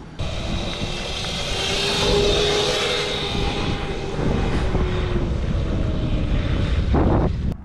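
An electric 72-volt 1000W go-kart motor runs flat out during a speed test, giving a loud continuous whine and rushing roar that holds steady with a few surges, close and alone with no talk.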